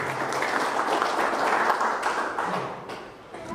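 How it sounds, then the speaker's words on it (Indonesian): A seminar audience applauds together in a hall, giving a few seconds of dense, even clapping that fades slightly toward the end. "Aplaus untuk kita semua."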